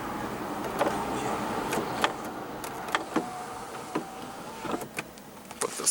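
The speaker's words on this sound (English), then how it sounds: "then your sunroof with your sunroof controls" The power sunroof of a 2016 Lexus ES350 opens with a faint electric motor whine, punctuated by soft clicks and light knocks inside the quiet cabin.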